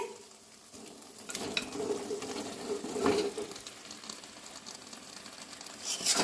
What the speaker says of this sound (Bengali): এখন এর মধ্যে ম্যারিনেট করা চিকেনগুলো দিয়ে দেব।